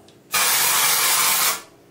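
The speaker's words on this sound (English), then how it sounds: "And then you basically spray it right on your roots." An aerosol can of dry shampoo sprays onto hair roots in one steady, close hiss lasting just over a second, then cuts off into quiet.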